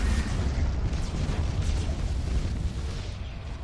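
A spaceship explodes in the space battle game Battlefleet Gothic Armada, a heavy, continuous rumbling blast with crackling debris that holds loud for several seconds and tapers slightly at the end.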